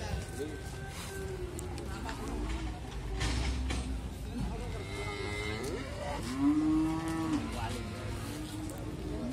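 Cattle low and moo repeatedly at the Muntilan livestock market in Magelang, where slaughter-ready cows are brought for sale; several calls overlap amid a busy crowd hubbub, with one long, loud moo standing out close by.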